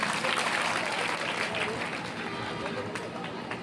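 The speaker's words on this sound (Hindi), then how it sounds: "जोरदार तालियों से" A large crowd at a religious gathering welcoming a Shankaracharya breaks into steady, dense applause that holds throughout, with a hint of voices mixed in.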